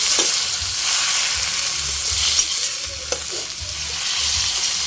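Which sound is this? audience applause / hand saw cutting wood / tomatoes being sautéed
tomatoes being sautéed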